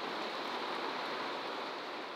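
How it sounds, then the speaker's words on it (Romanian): Heavy rain pours outside during a storm on a rainy grilling day, a steady, even hiss of falling water heard at low level with no voices. "plouă tare, furtună, da."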